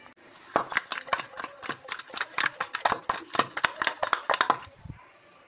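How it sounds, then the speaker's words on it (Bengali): Whole kathkhoyra sea fish being mixed with salt and turmeric in a bowl, giving a quick run of about twenty sharp, close clinking strokes in a steady rhythm that stops abruptly near the end. "এগুলোকে নুন হলুদ মেখে ভেজে একটা ঝাল ঝাল মতন করা হবে"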